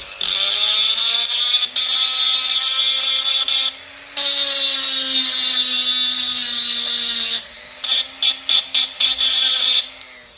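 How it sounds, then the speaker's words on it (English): A loud, high-pitched power grinder cleaning a metal bracket on a 1955 Ferguson TEF 20 diesel tractor whines steadily, cutting out briefly a few times, then ends in a series of short stuttering bursts. "it's doing a lot of grinding and all of that"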